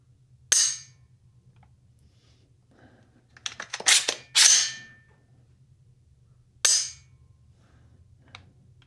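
The trigger of an AR-style scout rifle set to semi-auto, pulled and reset: crisp metallic clicks and snaps up close, a few single clicks spaced apart with a quick cluster in the middle.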